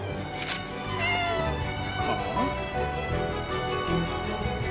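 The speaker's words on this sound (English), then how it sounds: "I swear I heard a cat." A cat meows within the Gravity Rush 2 game, its calls rising over a dense bed of game music and ambience, fairly close and moderately loud.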